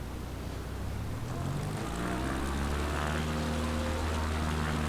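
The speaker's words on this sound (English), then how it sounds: "See how the takeoff is." Floatplane in Microsoft Flight Simulator taking off, its propeller engine droning loud and steady, the pitch climbing as power builds, with no talk over it.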